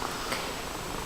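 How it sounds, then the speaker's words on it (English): A stressed adult cat being rehomed purrs while dozing and being gently patted, a soft, steady low rumble held evenly throughout against faint background hiss. "And if you can hear, she's purring there."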